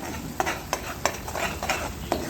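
Raw paneer pieces are stirred into a sizzling masala in a pan, with a spoon scraping in a steady rhythm of distinct strokes over a soft background sizzle.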